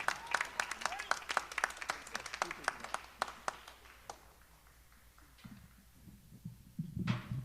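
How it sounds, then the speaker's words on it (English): A performance audience clapping: a quick scatter of sharp hand claps that thins out and fades, followed by a murmur of voices at the end. "Y'all give him a round of applause"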